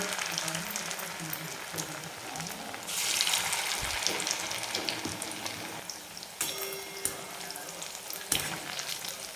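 Chicken 65 pieces deep frying in hot oil over a medium gas flame, giving a steady, dense sizzle and crackle that swells louder partway through, with occasional stirring clinks and no talk.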